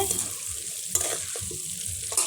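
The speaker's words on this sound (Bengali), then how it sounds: "তারপর দেখো এই যে আমাদের আলু ভাজা হচ্ছে" Potatoes frying in a pan at a night-time outdoor picnic, with a close, steady sizzle broken by a few clattering stirs.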